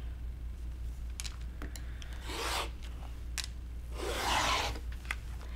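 Quilt fabric being cut into strips along a ruler, two soft rasping strokes of the cutter dragged across the cloth, quiet and close, with small clicks and taps between them.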